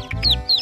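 A rainbow-coloured chicken gives a few short clucks and squawks, close and fairly loud, with brief gaps between calls.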